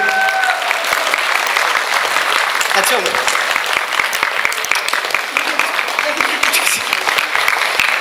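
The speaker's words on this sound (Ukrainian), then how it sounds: "Їй теж оплески." A concert audience applauds steadily and loudly for several seconds, a dense wash of clapping with no break.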